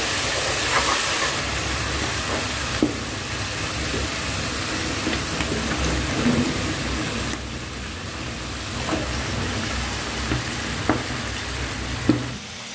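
Chicken pieces hit hot fried spices in a pan, giving a steady loud sizzle and frying hiss throughout, with occasional stirring scrapes and clinks, no talk.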